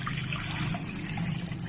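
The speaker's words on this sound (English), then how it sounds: "we only have this milk from Australia, which is okay. So here we go. We pour that in here," Australian milk pours steadily into a container for homemade yogurt, a continuous soft liquid trickle with a low hum underneath and no talking.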